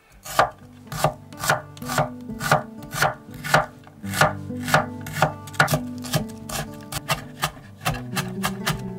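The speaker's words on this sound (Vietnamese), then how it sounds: "Hành tím mình cũng cắt và mình băm nhỏ ra luôn." A knife minces shallots rapidly and rhythmically on a cutting board, dozens of crisp, evenly spaced strikes close up, with no talking.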